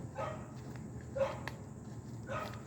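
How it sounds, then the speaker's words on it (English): A big Great Dane barking at a distance from over in a neighbor's yard, three separate deep barks spaced about a second apart, faint against a quiet background. "big old dog barking over there"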